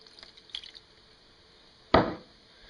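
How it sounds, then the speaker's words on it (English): Half a cup of water splashes into a roasting pan holding a pork shoulder picnic roast, one brief close gush after a few faint clinks. "I'm going to dump a half a cup of water in here."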